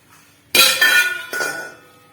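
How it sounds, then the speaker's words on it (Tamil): A metal wok (kadai) lid lifted open after baking a sponge cake inside, giving a sharp near clank followed by a second, softer metallic clink with a ringing tail. "இப்போ கடாய் வந்து ஓப்பன் பண்ணி பார்க்கலாம்."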